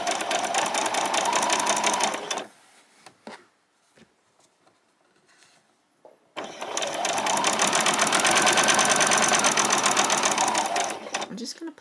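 A sewing machine stitching an apron runs in two loud, close, steady bursts of rapid mechanical whirring, separated by a quiet pause with faint handling noises.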